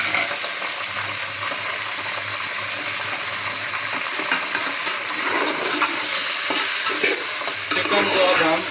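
Chicken pieces sizzle and crackle in hot oil while being stirred, a steady, loud frying hiss running throughout with scraping stir sounds, no voices.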